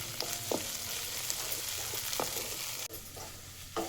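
Crushed garlic and green chilli paste sautés in a pan, a steady close sizzle with occasional spoon scrapes and stirs, no talking.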